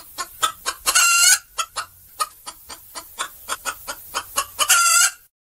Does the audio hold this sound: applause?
no